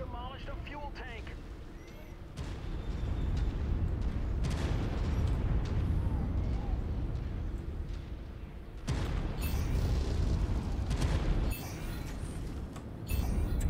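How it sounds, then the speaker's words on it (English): A fuel tank explodes in the MechWarrior 5 video game, heavy low booms and rumbling blasts amid continuous battle noise, with a voice talking over the action. "They just demolished a fuel tank."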